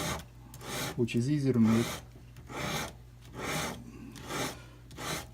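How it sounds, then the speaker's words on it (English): A buff stick files a gold ring held in a vise at a jeweler's bench pin, making rhythmic close rasping strokes, and someone speaks briefly over the first strokes. "So I'm going to use a buff stick,"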